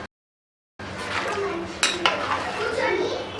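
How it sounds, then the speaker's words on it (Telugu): Washed basmati rice is tipped into an Andhra-style chicken biryani pot and stirred, giving loud, close scraping and clinking of a spoon against the metal pot after a brief silent gap at the start. "ఇప్పుడు ఇందులో మనం శుభ్రంగా కడిగి పెట్టుకున్న బాస్మతి రైస్ని వేసుకోవాలి. ఒకసారి బాగా కలుపుకోవాలి."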